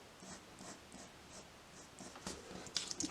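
Faint, soft scratching of a pencil sketching a series of arcs on paper, in light repeated strokes at a steady rhythm, close and quiet.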